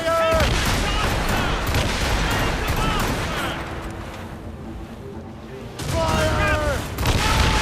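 Ship cannons firing in a naval battle in Assassin's Creed Rogue, a loud burst of booming shots at the start, a quieter lull, then another heavy volley, with shouting voices over the barrage.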